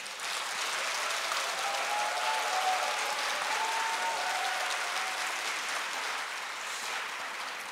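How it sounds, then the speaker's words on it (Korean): Audience applause at a church book concert welcoming two pastors: dense, sustained clapping from a large crowd, steady and evenly loud from start to finish with no voices over it. "다시 한번 박수 주실까요?"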